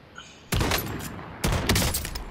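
Gunfire in the video game Call of Duty: Warzone, with two loud bursts of rapid rattling shots separated by a brief pause, close and sharp.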